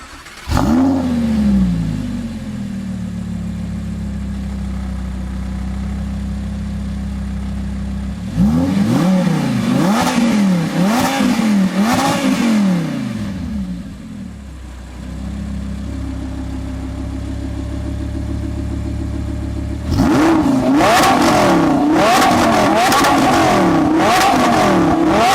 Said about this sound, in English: It has an aftermarket exhaust from IPE. So take a listen to what this thing sounds like.